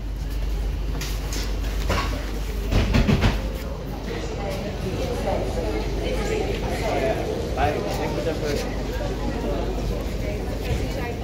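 Amsterdam metro CAF S3/M4 trainset running, a steady low rumble with occasional clattering bursts and a brief louder knock, heard from on board with faint voices beneath.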